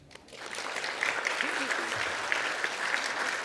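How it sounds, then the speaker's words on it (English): A dinner audience at a gratitude gala claps, a sustained wash of applause building after a quiet start and holding steady, with some voices mixed in. "you can give a round of applause yourself"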